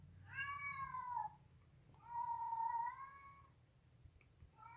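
A Siamese cat meows twice in long, drawn-out, wavering calls, then begins a third, heard close over a low background rumble.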